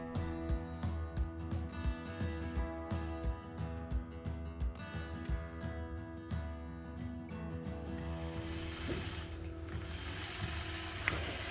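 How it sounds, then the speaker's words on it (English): A Statler Stitcher computerized longarm quilting machine runs an edge-to-edge design, producing a close, rhythmic mechanical clatter of regular ticks and whirring gears that smooths into a steadier hum toward the end, with no voices. "So here you can see my Statler stitcher stitching out this fun design."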